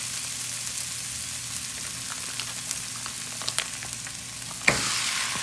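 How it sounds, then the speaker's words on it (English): Meat for picadillo fries in a pan with a steady soft sizzle, scattered pops and crackles, and one sharper clatter near the end, with no talking. "I'm going to put my meat now."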